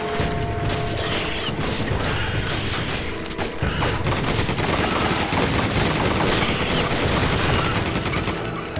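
Rapid gunfire crackles through co-op play in Resident Evil 5 Remaster, dense bursts of shots and mechanical clatter running almost continuously and loud, with no talk over it.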